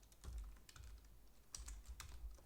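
Quick, quiet keystrokes on a computer keyboard, irregular clusters of light clicks with short pauses between them, close and soft.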